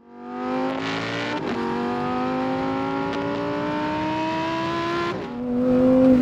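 A Lamborghini Huracan STO V10 engine revs high and steady, holding a rising pitch, dipping briefly at a gear change, then climbing loudly again.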